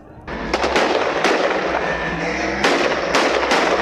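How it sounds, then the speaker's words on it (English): Rockets fired toward Israel being intercepted overhead, heard as a rapid series of sharp booming cracks and bursts over a constant rumbling din, some blasts closer and louder than others. "Above their heads, rockets fired toward Israel are intercepted"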